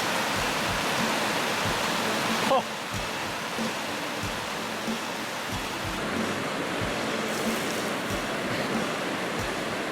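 A rushing river crossed on foot, loud broadband water roar throughout with steady low thumps, and a brief exclamation from a voice early on.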